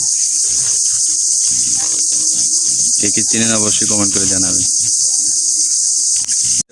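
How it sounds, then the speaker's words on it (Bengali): Crickets in a village chirp in a steady, loud, high-pitched drone that runs through the whole stretch, while a person talks over it in the middle. "এই অবশেষে ঝিঝি পোকা"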